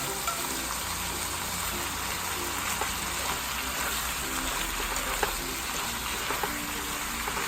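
Onion and carrot sizzle in a hot pan for bulgogi, a steady, dense frying hiss like light rain with faint stirring crackles, continuous and close with no talk.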